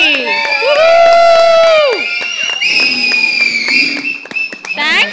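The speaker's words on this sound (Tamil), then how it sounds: "ஒரு பலத்த கரகோஷம் everybody" An audience at a Tamil stage show for Margazhi Poo cheers and applauds loudly, with shrill whistles and shouts rising above the clapping in close, bright bursts.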